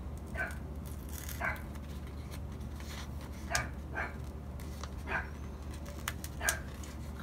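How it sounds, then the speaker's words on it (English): A dog barks outside a door, a handful of muffled, spaced single barks at moderate distance over a steady low indoor hum. "now he's barking outside my door."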